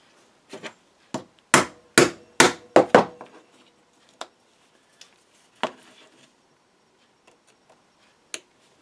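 Hammer blows splitting apart an ultrasonically welded plastic USB charger case, with a quick burst of sharp, close, loud strikes followed by a few scattered lighter taps amid quiet.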